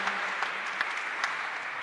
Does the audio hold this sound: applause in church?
yes